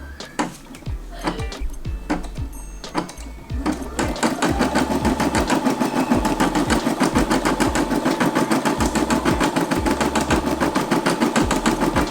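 A Brother SE625 embroidery machine stitching with white thread, at first a few scattered clicks and thumps, then a steady rapid mechanical whirring and ticking that runs loud and close through the rest without any speech.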